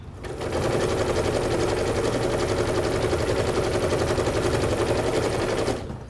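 A sewing machine stitches the border of a baby quilt in one steady, fast, loud run lasting about five seconds. It starts and stops cleanly and nobody talks.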